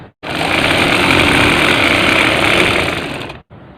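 A sewing machine runs continuously for about three seconds as it stitches a seam on a ladies' shirt, giving a loud, even motor whir that starts and stops abruptly.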